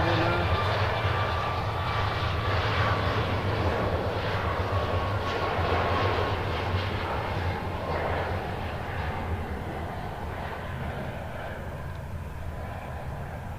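A Southwest airliner roars loudly and steadily at Nashville International Airport, its engines holding a continuous broadband rumble throughout with no letup.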